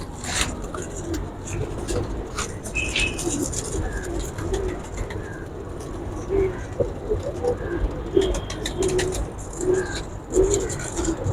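Pigeons kept on a rooftop coo repeatedly at close range in soft, low, rolling calls, with scattered flutters, other faint bird sounds and distant traffic in the background.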